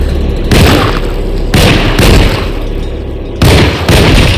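Gunfire in the survival horror game Alone in the Dark, a run of loud, heavy booming shots in close bursts that repeat several times, with brief gaps between volleys and no talk.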